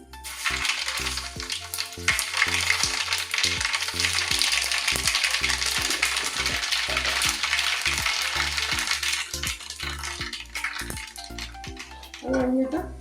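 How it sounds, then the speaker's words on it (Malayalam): Three spoonfuls of mustard seeds splutter in hot oil for a Kerala-style tender mango pickle, a dense run of sharp, close popping crackles under a low voice. "ഒരു 3 സ്പൂൺ കടുകിടുക കേട്ടോ."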